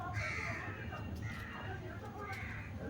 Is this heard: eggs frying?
no